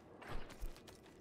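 Door opening in the Diablo 4 action game, a short mechanical creak with two soft knocks and a brief rattle, quiet and close.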